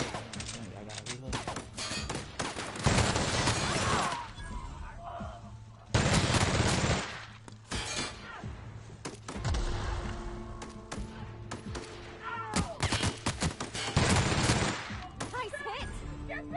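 Gunfire in The Outer Worlds: repeated bursts of shots and fast automatic fire crackle through a busy sci-fi firefight, mixed with game sound effects, while voices call out between volleys.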